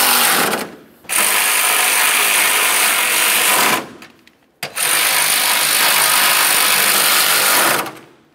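A hand ratchet clicks rapidly while snugging bolts during a radiator replacement on a 2004-2006 Scion xB, in two long close bursts separated by a short pause.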